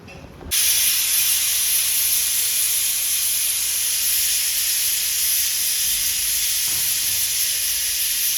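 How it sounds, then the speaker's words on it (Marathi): A loud, continuous hiss of steam bursts suddenly from a pressure cooker on a wood-fired stove and keeps rushing steadily, close by and unbroken. "वाफ जायला ठेवलेले कुकर बघा"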